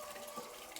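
Water runs steadily from a tap as a continuous broadband hiss, fairly close and at an even level, with no talk.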